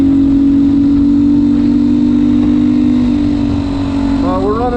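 A GPX FSE300R dual sport motorcycle rides on pavement on stock off-road tires, a loud, steady engine drone with a held pitch, wind rumble underneath and a brief rise in revs at the end.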